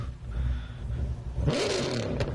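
A fast car's engine in Gran Turismo 7, idling with a low rumble, then revving up in a quick rising whine and staying loud, heard alone without talk.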